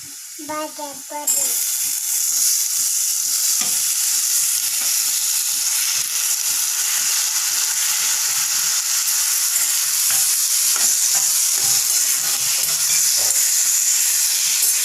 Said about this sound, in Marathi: आपण यामध्ये आता ते कट केलेले टोमॅटो ॲड करूयात